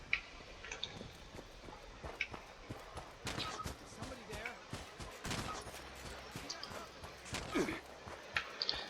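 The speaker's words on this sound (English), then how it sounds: "Sounds like we're being shot at." Gunfire in the video game Fallout 76 crackles as scattered, irregular shots and short bursts at moderate distance, mixed with clicks and faint background game noise.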